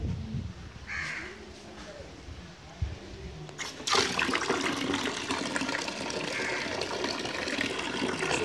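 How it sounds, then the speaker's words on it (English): Quiet ambience with a distant bird call gives way to a sudden, steady rush of water pouring from a pipe before a Kirloskar 0.5 hp pressure pump is switched on, loud and continuous to the end. "This is the water flow initially."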